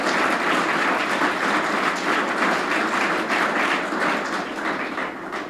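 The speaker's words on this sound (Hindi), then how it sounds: "मैं निवेदन करूंगा एक बार हाथ जोड़कर फिर जोरदार तालियां बजाकर" An audience at a Delhi Public School event in Jhunjhunu claps together in a dense, sustained burst of applause that stays loud throughout and tapers slightly at the end, with no voices.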